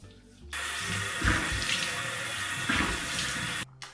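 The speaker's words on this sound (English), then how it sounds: "The first thing I do is wash my face with a charcoal detoxifying face wash." Tap water running into a sink while a face is washed with charcoal detoxifying face wash: a steady close splashing stream that starts abruptly, surges with hand splashes, then cuts off.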